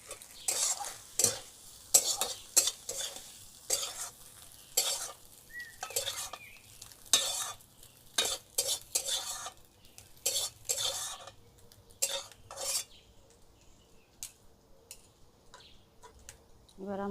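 An egg frying in a pan for a chowmein breakfast, stirred with a utensil in repeated scraping and clinking strokes over a faint sizzle, close by and fairly loud.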